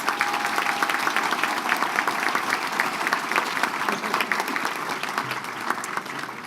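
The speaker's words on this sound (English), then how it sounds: "Can we please give a round of applause to our final group of nominees?" An audience at the 2019 Athena Award ceremony gives a steady round of applause for the final group of nominees, with dense, even clapping filling the room from start to finish.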